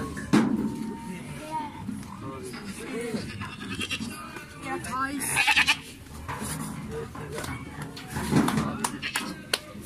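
Goats bleating among livestock being loaded as cargo, several loud calls rising over constant nearby voices and shuffling, with bursts of bleats scattered across the clip.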